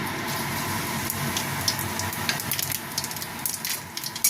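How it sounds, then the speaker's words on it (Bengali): Black cumin seeds crackle and sizzle in hot oil left from frying eggplant, a dense hiss with scattered sharp pops, close and fairly loud, with no talk. "ওই তেলের মধ্যেই আমি কালো জিরা ফোড়ন দিয়ে দিচ্ছি"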